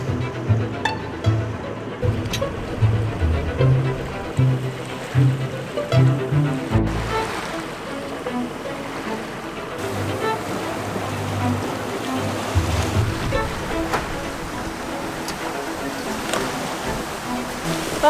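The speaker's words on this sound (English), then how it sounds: "luckily the waves have calmed down a lot more. They're still pretty high, like we're still getting about 3-meter waves or so" Ocean waves wash around a sailing boat in the North Atlantic, with roughly three-meter swells. A steady broad rush of water and wind fills the whole stretch, with heavier surges near the start.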